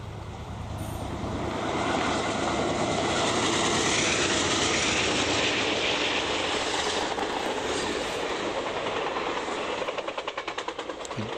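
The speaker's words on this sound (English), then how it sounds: "a train came by, and you get to see what it's like for the train to come by at 60 miles an hour" A train passes close by at about 60 miles an hour beside tracks near the water, a loud sustained roar with rapid clickety-clack rhythm that builds within two seconds and holds steady, with no voices.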